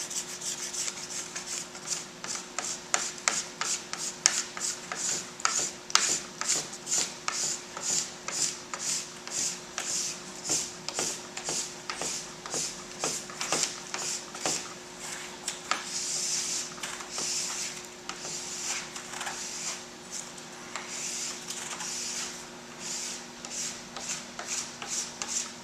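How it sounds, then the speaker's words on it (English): Wax scraped off a ski base with a plastic scraper, a long run of rapid, rhythmic rasping strokes, moderately close, over a faint steady machine hum in a ski tuning shop. "we're going to scrape it with a plastic scraper and brush it on this machine over here"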